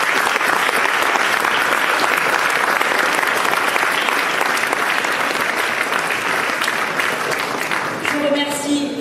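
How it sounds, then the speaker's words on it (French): Sustained, dense applause from a large crowd at a Paris new-year gathering of the Ecologists party fills the room loudly and evenly for several seconds, then thins out near the end. "On peut l'applaudir."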